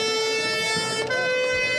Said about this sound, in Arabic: هذه الصافرة الخاصة برجال الإطفاء